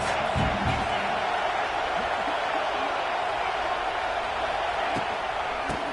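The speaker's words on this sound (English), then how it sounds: "This crowd trying to make life miserable for this offense." Stadium crowd noise in the college football video game NCAA 26, a dense, steady roar of a large crowd with a few scattered thumps and shouts rising out of it.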